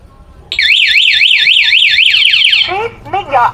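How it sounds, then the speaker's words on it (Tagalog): A motorcycle alarm system wails loudly and close, a rapid warbling siren cycling for about two seconds before shifting into shorter chirping sweeps, with a voice briefly speaking underneath. "Ba't nag-alarm ka agad?"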